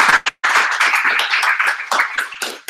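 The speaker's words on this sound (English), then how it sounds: "So let's give ourselves a round of applause." Audience at a barbershop talk series event in Ottawa clapping, a dense, fairly loud burst of claps with a brief gap early on, continuing steadily to the end.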